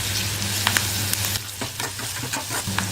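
Onions with salt, turmeric and curry leaves frying in a pan while being stirred for wheat flour kara dosa, a steady close sizzle broken by scattered clicks and scrapes of a spatula, with no talking.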